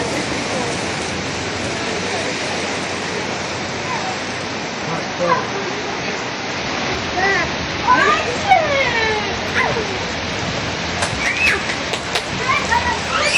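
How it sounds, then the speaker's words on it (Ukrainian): Steady broadband rain hiss fills the whole stretch during a warm, sunny seaside holiday, with people talking over it in the second half. "нас встречает классный дождь."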